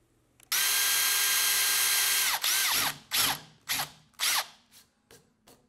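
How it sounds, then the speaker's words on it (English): A power drill bores a hole in a wooden desk board, one long steady whine followed by several short bursts as the bit finishes, loud and close with no talking. "I simply drilled a hole for this that's half a millimeter undersized"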